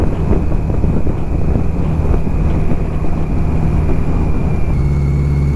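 A BMW K100 motorcycle engine drones with a steady exhaust note while riding, blended with heavy wind rush across the microphone, and the level stays loud and constant throughout.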